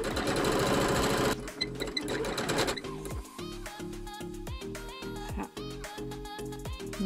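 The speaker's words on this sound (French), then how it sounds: "Une fois qu'on a cousu ça" A sewing machine stitches along a long fabric strip, starting as a fast continuous whir and then breaking into loud, close bursts of rapid needle clatter with brief pauses between them.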